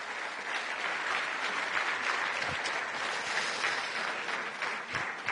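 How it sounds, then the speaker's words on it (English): Steady audience applause fills a conference hall after a strategy discussion at the Bled Strategic Forum, loud and continuous from start to finish, with no clear voices over it. "This is your applause."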